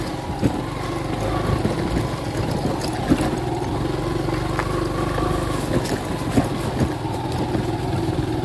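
A motocross motorcycle engine runs steadily nearby on a rough rocky trail, a continuous loud rumble with occasional knocks and rattles over the terrain.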